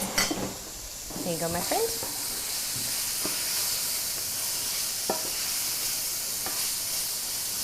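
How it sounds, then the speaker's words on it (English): Diced carrots, courgette and onions sizzle steadily in a hot pan as they are tossed, a constant bright hiss close by, with a few spoken words near the start and light clinks of the pan. "carrots, courgette. I'm just going to give them a toss about. Soften them just slightly"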